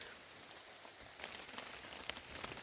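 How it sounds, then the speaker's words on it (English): Rain pattering on a person walking out of the woods in northern Maine, light steady hiss that thickens after the first second, with scattered close drop impacts and no talk. "I'm getting covered in rain here"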